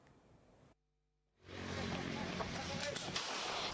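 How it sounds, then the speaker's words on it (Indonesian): A loud burst of police warning gunshots erupts after a brief silence during a fugitive arrest in Palembang, sharp cracks over rumbling noise, following a stretch of quieter background sound. "Suara tembakan peringatan petugas kepolisian terdengar dalam aksi penangkapan buronan"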